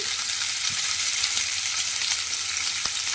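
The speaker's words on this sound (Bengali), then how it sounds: "এইবারে দেখুন তেলের মধ্যে প্রথমে দিয়ে দেব পেঁয়াজ কুচি।" Thinly sliced large onions fry in hot oil, giving a steady dense sizzle that stays even and close, with a few faint stirring clicks and no voices.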